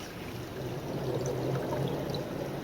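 Water of a small creek flowing steadily, a constant broadband rush close by with no speech, the stream widening into a creek farther downstream.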